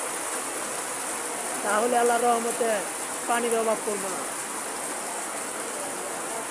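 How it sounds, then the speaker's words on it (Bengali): Steady rain falls in a rural farming area as an even, soft hiss that continues throughout, with someone speaking briefly over it in the middle. "যে বৃষ্টি পড়তেছে"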